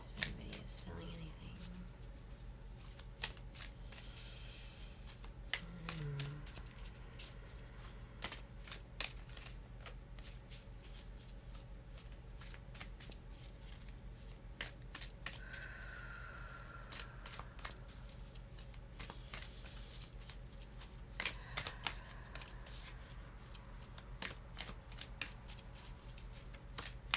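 A deck of cards being shuffled, with faint, steady riffling and soft snapping clicks scattered across a long stretch under a low constant background hum.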